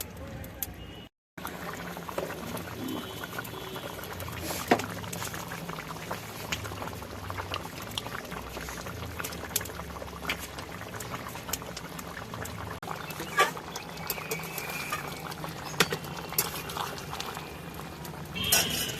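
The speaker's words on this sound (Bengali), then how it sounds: "এবারে ঝোল আর চর্বিটাকে খুব ভালোভাবে আমরা মিনিট পনেরো কুড়ি ভালো করে ফুটিয়ে নেবো" Goat liver and fat curry simmers in a pot outdoors on a rooftop, giving a continuous bubbling boil with liquid popping and occasional louder plops, steady for the whole stretch.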